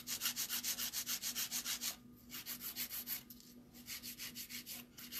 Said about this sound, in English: So I'm going to go in with the 100 grit file and just taper in the sides a little bit.